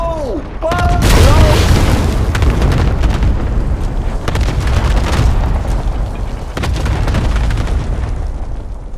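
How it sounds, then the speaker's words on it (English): Cluster strike explosions in Call of Duty Warzone roar as a loud, continuous barrage of booms and rumbling blasts that lasts the whole stretch, with shouting voices over the start. "Target marked. Burn it all. Loader 2-0, good copy. Cluster strike away."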